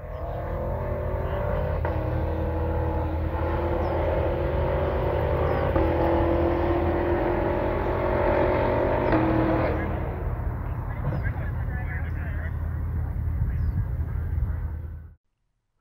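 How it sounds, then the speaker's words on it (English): A Cadillac Escalade-V's powerful engine roars steadily as it speeds across a bridge in Arizona, its exhaust note reverberating and booming off rock walls and water below, then fading out abruptly. "an Escalade V ripping across a bridge in Arizona with its exhaust echoing off the rock wall"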